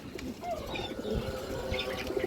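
A female Muslodom pigeon with kajla markings flaps its wings nearby, a soft fluttering over a steady low background with faint cooing from other pigeons.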